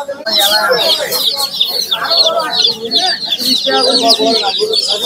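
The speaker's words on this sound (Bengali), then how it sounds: "এগুলো ব্রয়লার মুরগি বাচ্চা" Broiler chicks one to seven days old peep constantly in a dense, high chorus at a market, close by, with a voice speaking over them.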